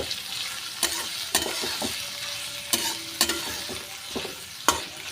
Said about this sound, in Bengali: পেঁয়াজটাও আমি বেশ লালচে করেই ভাজব